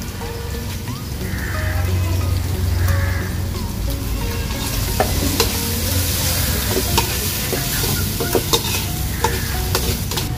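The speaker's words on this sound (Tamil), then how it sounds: "இஞ்சி பூண்டு பேஸ்ட் போட்டுக்கிறோம். மஞ்சத்தூள் போட்டுக்கிறோம் பாத்துங்க." Ginger garlic paste and turmeric fry in a pan for rat meat curry. A loud, continuous sizzle runs under repeated stirring scrapes and clicks, with no speech.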